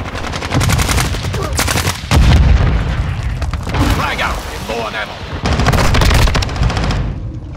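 Heavy, loud bursts of automatic gunfire and explosions from the video game Call of Duty Modern Warfare 2, in rapid rattling volleys with brief lulls, and voices shouting beneath the shooting.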